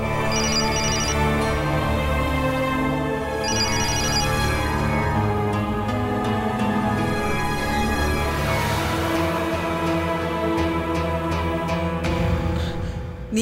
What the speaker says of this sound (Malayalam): അച്ഛമ്മയുടെ ഫോൺ ബെല്ലടിക്കുന്നു ഞാൻ എടുത്തോണ്ട് വരാം